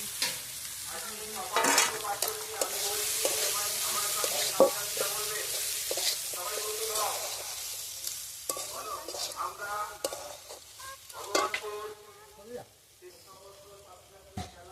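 Vegetables for a village-style Bengali bimkorai (broad bean) curry with coconut sizzle steadily in a pan while being stirred, with repeated scraping clatters of the spoon against the pan and faint voice-like harmonic sounds in the background.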